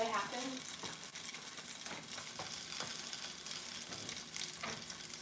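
Spinach frying and sizzling in a pan, a continuous crackling hiss punctuated by clicks and stirring scrapes close by, without talk.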